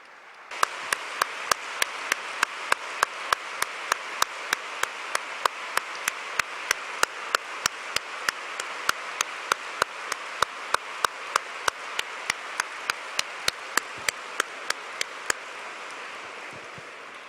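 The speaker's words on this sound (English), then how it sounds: "allow me to dedicate this applause to Jesus Christ the Lord" An audience at a testimony talk applauds in a long, steady wash of clapping. Sharp regular clicks cut through it every quarter second or so before the applause tails off near the end.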